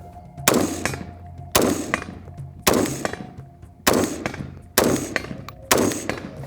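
An AR-15 LMT MARS rifle fires six loud, sharp shots at an outdoor shooting range, each one evenly spaced about a second apart, with a crack that decays quickly between shots.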